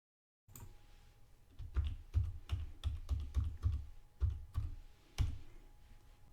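A password is tapped out on a computer keyboard, a string of close, crisp key clicks in an uneven rhythm, some quick runs and short pauses, with no talking.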